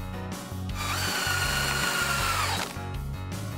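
Cartoon power drill driving screws while building a toy train frame: a loud, sustained whirring drill run of about two seconds, bracketed by short mechanical clunks, with no talk over it.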